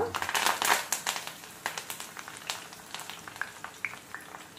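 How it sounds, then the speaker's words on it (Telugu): Curry leaves dropped into hot oil after the stove is switched off for a mango thurumu pickle, crackling and sizzling loudly at first, then settling into scattered soft pops. "స్టవ్ కట్టేసుకున్నాక కొంచెం కరివేపాకు వేసుకోండి. ఈ వేడికి వేగిపోతుంది అనమాట."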